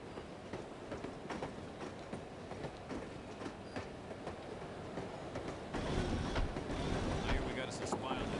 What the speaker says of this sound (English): I love riding the train.